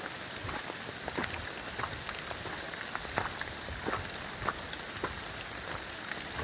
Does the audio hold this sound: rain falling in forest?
yes